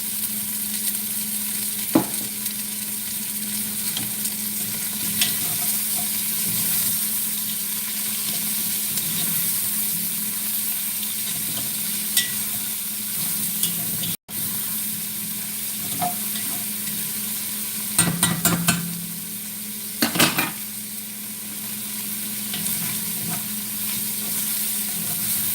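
Ingredients for a goat, ale and mushroom pot pie sauté in oil, giving a steady close sizzle with occasional clinks and stirring scrapes in the pan, without speech.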